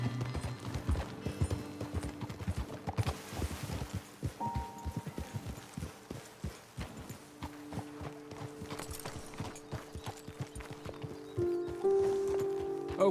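Horse hooves clip-clop in Red Dead Redemption 2, a loose, uneven run of hoofbeats slowing over several seconds, with a faint snort and some low game tones in the background and no talk.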